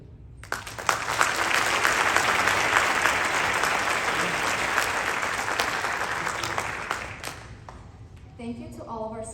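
Sustained applause from a crowd at a high school award ceremony, steady and dense for several seconds before tapering off, with a few voices emerging at the end.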